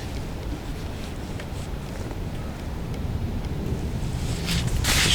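Wind blows over open water at Lymm Dam while feeder fishing for bream, a steady broadband rush and buffeting against the microphone that grows stronger toward the end, with no talk.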